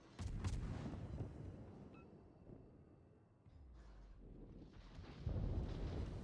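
Naval gunfire in World of Warships as an enemy ship shoots at a French destroyer, the Siroco: heavy booming shell blasts open the moment, wind-like rumble follows, then another loud volley of fire near the end.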